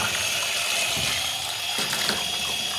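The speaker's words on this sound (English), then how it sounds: "So start off by rinsing that through under the tap." Paint sprayer parts, including the needle, being rinsed under a running tap, with a steady, fairly loud gush of water splashing into a sink throughout.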